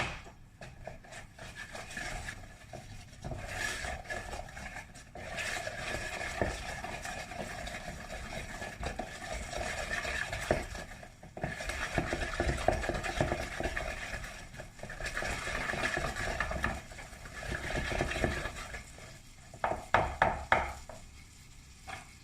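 A whisk beating a sugar mixture for madeleine batter until pale, a steady rapid scraping and tapping against the bowl that continues for a long stretch, moderately quiet with brief pauses and faster bursts near the end.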